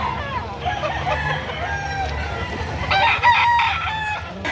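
Several roosters crow over a steady din at a chicken market in Lipa City, Batangas, with hens clucking in the background; one louder crow rises near the end.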